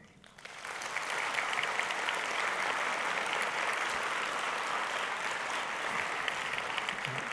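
Steady applause from a large congress audience, rising quickly at the start and then holding as a dense, even wash of clapping to the end.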